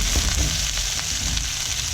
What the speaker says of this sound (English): We're going to add the carrot and the asparagus and the burdock.